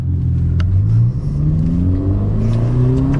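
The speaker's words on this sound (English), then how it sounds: "You can hear that exhaust." A 2021 Ferrari Roma's loud exhaust roars as the car accelerates, engine pitch climbing through gears with brief dips between shifts, close and continuous.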